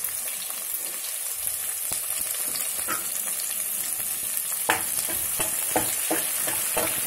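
Onions dropped into well-heated oil for hotel-style veg pulao, frying with a bright, steady sizzle and crackle, close up, with stirring scrapes and a few sharper pops toward the end; no one speaks.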